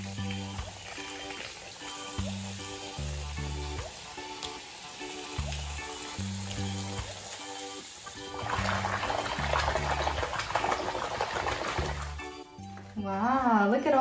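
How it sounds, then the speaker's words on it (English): Water poured into a baby doll bath for twin dolls, a soft trickling pour rising from about eight seconds on, with music and a voice running throughout. "Let's go ahead and put some more water."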